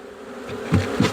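Honey bees in a horizontal hive, a close, steady buzzing hum that swells in a few louder pulses toward the end.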